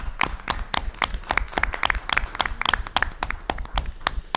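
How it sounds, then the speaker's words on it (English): A round of applause at a school board meeting, a smaller group clapping with distinct, close individual hand claps in a brisk, slightly uneven rhythm lasting a few seconds. "let's give them a round of applause for their work"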